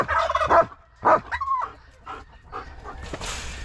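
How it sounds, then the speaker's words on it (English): Turkeys in a farm pen with hens gobble and squawk in several loud, close bursts, their rough cackling calls coming in quick uneven clusters with short pauses between them. "Them turkeys go crazy."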